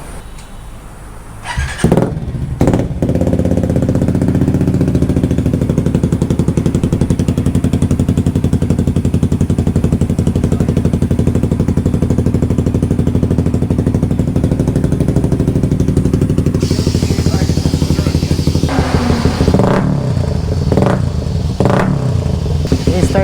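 A motorcycle engine runs loud and steady up close while warming up, its rough revving drone holding for a long stretch before a few sharper bursts near the end.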